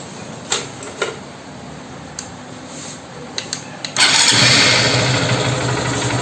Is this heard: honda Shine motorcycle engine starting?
yes